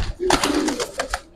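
A Giribaz pigeon at a bird market gives a short low coo alongside a few sharp clicks and rustles nearby.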